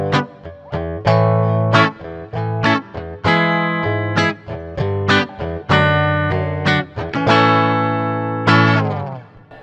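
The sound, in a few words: electric guitar rhythm chords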